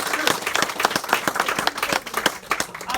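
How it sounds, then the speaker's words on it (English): An audience claps in sustained applause, a dense patter of many hands nearby that fills the short stretch without a break. "Give John a round of applause."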